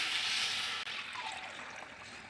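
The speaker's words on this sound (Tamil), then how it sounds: "நல்லா ஒன்றா கரைச்சி வச்சுக்கிற புளி தண்ணியை நம்ம இப்போ வந்து ஊற்ற போகிறோம்" Tamarind water streams from a container into a clay pot for a mango and sardine fish curry, a steady hissing pour that thins slightly after a brief break, with no voices.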